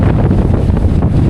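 Loud, steady gusting wind over the water, buffeting the microphone with a dense rumbling roar and no voices.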